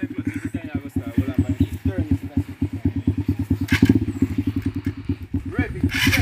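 A 150 cc motorcycle ridden by a learner, its engine putting out a rapid, throbbing putter close by, mixed with loud voices shouting encouragement over it.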